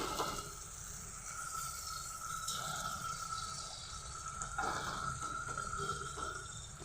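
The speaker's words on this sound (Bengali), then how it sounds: "এবার আমি গরম পানি করে রেখেছিলাম সেই গরম পানি দিয়ে আমি" Hot water is poured into a flat bean (sim) curry cooking in a pan, making a continuous close splashing and gurgling pour for several seconds with no talking.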